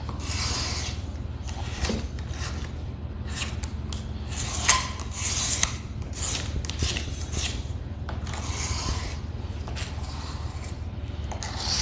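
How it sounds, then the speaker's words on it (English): A tool rasps and scrapes along the sides of wooden staircase spindles during a stair refurbishment, a steady stream of close, gritty strokes with small clicks and knocks scattered through. "Just kind of scrape along the sides."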